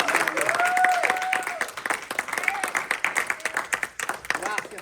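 A church congregation applauds with rhythmic, fairly close clapping that swells and then thins into scattered claps, while voices carry over the top.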